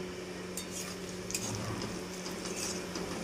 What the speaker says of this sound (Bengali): এই যে আলু পেঁয়াজটা ভাজছি